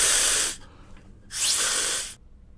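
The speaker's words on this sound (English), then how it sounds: "if you so happen to submerge the second straw in water and you blow over the first straw" Breath is blown hard over a straw whose partner straw sits in water, making it spray like an air spray can. Two loud hissing blasts, each about half a second to a second long, are separated by a short pause.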